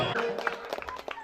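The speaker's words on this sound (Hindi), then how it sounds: "एक बार जोर से ताली हो जाए" An audience claps at a devotional gathering, a short burst of scattered hand claps blending with crowd noise.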